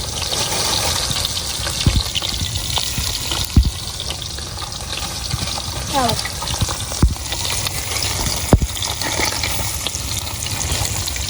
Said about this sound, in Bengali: আমাদের মাছ ভাজা শুরু হয়ে গেছে